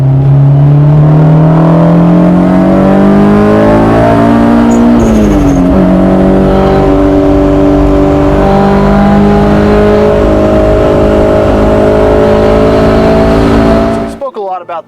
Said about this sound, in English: when you're at 7, it just screams with the best of them